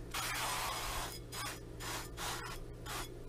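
Short hissing bursts of cooking spray onto a tortilla shell in a 9.5-inch bowl, several quick sprays in a row, close up and fairly quiet.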